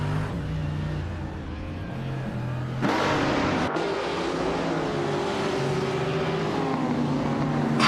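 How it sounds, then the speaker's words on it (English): A classic 1963 Porsche 904 races at the Hockenheimring, its engine droning steadily and then surging louder with a sudden roar partway through, sustained close and alone to the end. "Katsushuk is starting in pole position, driving a classic 1963 Porsche 904."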